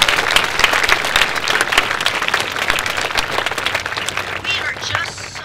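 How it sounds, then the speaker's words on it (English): A school assembly audience at Black River Middle School applauds its teachers and administration, dense loud clapping filling the space continuously with scattered voices mixed in. "So I wish you would join me in a huge round of applause for your teachers and the administration."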